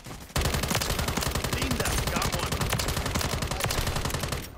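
Dense rapid gunfire in Call of Duty, a loud sustained automatic burst of shots that runs almost unbroken from just after the start to the end, with a brief voice under it.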